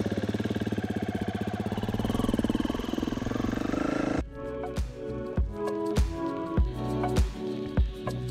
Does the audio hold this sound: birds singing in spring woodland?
no